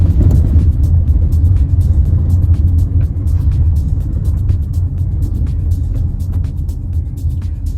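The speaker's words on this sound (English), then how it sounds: "I am purposefully trying to drive in the bumps." A 2024 GMC Terrain SLT is driven deliberately over rough road bumps, heard from inside as a loud, constant low rumble with scattered thumps and knocks from the suspension.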